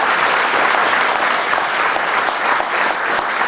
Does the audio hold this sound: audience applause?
yes